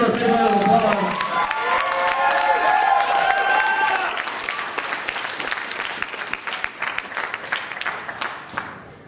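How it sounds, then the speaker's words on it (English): An anime convention crowd claps and cheers at an auction; a voice over the loudspeaker runs over the opening seconds, then steady clapping with scattered whoops carries through and slowly tapers off. "Give her a big round of applause."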